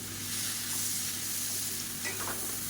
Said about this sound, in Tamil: இந்த பன்னீரை வந்து நம்ம வறுத்து எடுத்துக்கலாம்